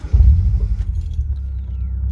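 A 1998 Nissan 240SX S14 engine catches and starts, a loud low rumble that surges briefly and then settles into a steady close idle.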